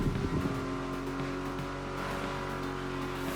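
A tuned Aston Martin engine in The Crew Motorfest hums at a steady, sustained pitch while driving, holding a constant close drone with no talking over it.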